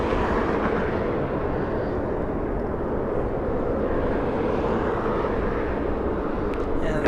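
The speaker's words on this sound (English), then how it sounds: "Japan Airlines departing in the south. Let's go for it. Dreamliner heading to Tokyo Narita." A Japan Airlines Boeing 787-9 Dreamliner departing LAX toward Tokyo Narita, a steady low broad jet engine roar held loud and constant from a distance, with faint indistinct voices underneath.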